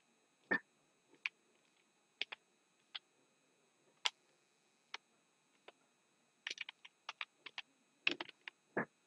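Quiet computer keyboard typing of a domain name: scattered single keystrokes early on, then a quicker cluster of clicks near the end, close and soft in an otherwise silent room.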